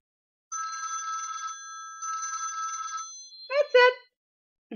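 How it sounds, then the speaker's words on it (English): A phone ringtone plays two bursts of steady electronic bell-like trilling, each about a second long, followed by a short higher melodic phrase, clear and close in otherwise quiet surroundings. "That's my ringtone."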